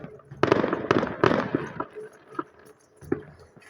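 New Year firecrackers going off outdoors, a quick cluster of sharp crackling bangs followed by a few scattered pops, fairly close, with faint voices in the background.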